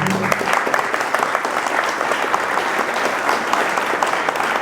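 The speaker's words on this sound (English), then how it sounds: "give yourself a round of applause" An audience at an evening artist conversation event applauds, many hands clapping in a steady, close, continuous crackle that holds for the whole stretch.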